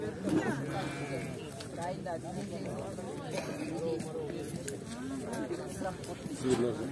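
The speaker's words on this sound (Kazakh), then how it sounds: "мына қойлар" Sheep bleating repeatedly at a livestock market, several overlapping calls near and farther off, under steady crowd murmur and people talking.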